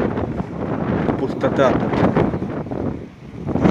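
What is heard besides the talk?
strong wind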